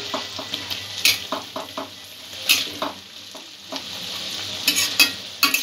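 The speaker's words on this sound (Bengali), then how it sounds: "আলু আর গাজরটা ভাজা হয়ে গেছে" Potatoes and carrots sizzle in hot oil while a utensil scrapes and stirs the pan in repeated knocks and clinks, close up.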